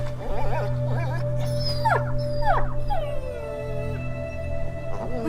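Leon, a dog in the video game A Plague Tale: Innocence, whimpers and yips in several rising, wavering cries over a low steady hum, close and clear, with no talking.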